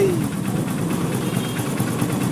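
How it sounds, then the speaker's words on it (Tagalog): A repaired Honda TMX Supremo motorcycle idles nearby with a steady, low, even engine rumble throughout. "Maandar na yung kay SK"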